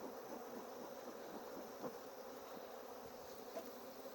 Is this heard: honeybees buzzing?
yes